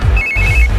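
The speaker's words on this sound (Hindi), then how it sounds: "इस वक्त दीदी का फोन" A short burst of a phone ringing, a thin electronic tone heard briefly over loud, muffled background rumble.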